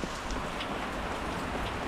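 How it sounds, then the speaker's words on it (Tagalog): Heavy rain pours down steadily and loudly around a campervan at a muddy campsite, a dense close hiss with a low rumble underneath and no voices. "Lakas ng ulan, lakas ng kulog."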